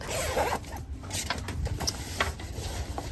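A bag on a cruise ship cabin shelf is unzipped in a few quick, close rasping pulls, with soft rustling and handling noise in between and no talking.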